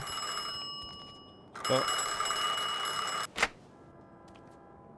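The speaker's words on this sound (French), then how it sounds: "Et le téléphone." A telephone rings in Mafia 2, two bright bell-like bursts, the first longer and the second short, over a quiet room tone with a brief exclamation.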